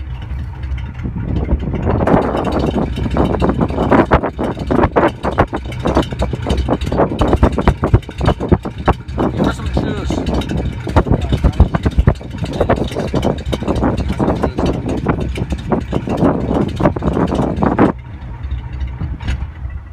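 A 1950 Ford coupe engine runs in a driveway with a loud, steady rumble that starts quickly and holds for most of the stretch, with small rises and dips before cutting back near the end.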